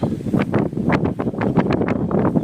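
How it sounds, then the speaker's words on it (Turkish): Strong wind buffets the microphone in loud, rough gusts with a constant low rumble and no voices, outdoors at beehives. "çok kötü bir hava var. Her taraf yıkılıp gider rüzgarlı."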